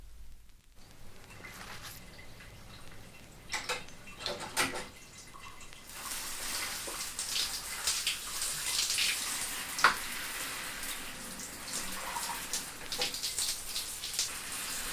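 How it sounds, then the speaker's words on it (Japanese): Shower water running steadily in a bathroom, a continuous hiss of spray that swells louder after a quieter start, with faint splashes and knocks throughout and no voices. "私ちょっとシャワーを浴びてくるわ。"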